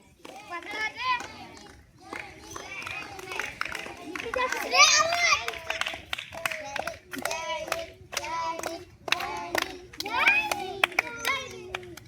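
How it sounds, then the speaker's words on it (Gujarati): Children clap together in bursts at an outdoor lemon-and-spoon race, the applause mixed with lively kids' chatter and shouts, fairly close and steady across the whole stretch. "જોરદાર તાળી સરસ"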